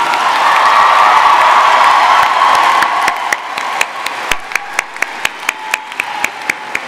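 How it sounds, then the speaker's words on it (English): Large commencement audience applauding the university band, loud dense clapping and cheering that thins out into scattered individual claps toward the end. "let's now give a round of applause for the ESU Commencement Band"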